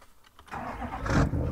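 A GMC truck engine in Farming Simulator 17 cranks and catches, rising from a starter whir into a loud, steady mid-pitched running rumble.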